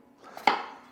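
A single sharp knife chop through sweet potato onto a cutting board, close and crisp, with a short softer tap just before it.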